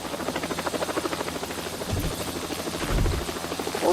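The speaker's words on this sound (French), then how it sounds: "Oh, l'hélico!" A helicopter passes overhead with a loud, fast rotor chop that pulses steadily throughout, swelling briefly as it goes by, with no voices.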